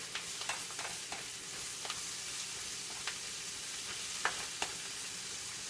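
Breakfast ingredients cook down in a pan before eggs go in, a steady broadband sizzle and frying hiss with occasional soft stirring scrapes and small pops, close and continuous with no talking.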